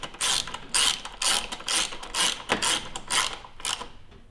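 A hand ratchet clicks in quick repeated bursts while snugging down bolts on an Indian Challenger motorcycle dash relocation kit, sharp close pawl ticking in about seven strokes with brief pauses between.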